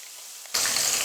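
Ground mint paste dropped into a pan of golden-fried urad dal, chana dal and cashews for pudina rice, bursting into a loud, sudden sizzle halfway through that holds steady after a quiet start.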